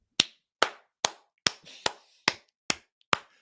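Hand clapping, eight sharp, evenly spaced claps by a single person, close and crisp with short decays and near silence between them.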